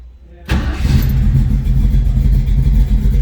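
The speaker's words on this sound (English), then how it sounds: "All right, let's go ahead and fire this up. Let you hear it run." A 1969 Ford Mustang Mach 1 with a 302 V8 bored 40 over cranks and catches abruptly, then settles into a loud, steady, rumbling idle close by, with no talking over it.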